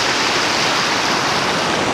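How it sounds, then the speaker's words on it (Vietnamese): A mountain stream rushes beside the road to Da Lat in Vietnam's highlands, about 70 km short of the town, heard on a motorbike trip: a steady, dense, close wash of flowing water with no break. "gặp cái suối này rất là hay"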